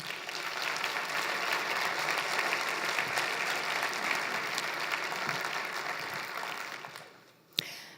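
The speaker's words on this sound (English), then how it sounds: "Let's please give our vendors and sponsors a hearty round of applause." Hearty audience applause fills a conference hall at a California ISO energy symposium. The dense, even clapping stays loud and steady for most of the stretch, then fades near the end and finishes with a sharp knock.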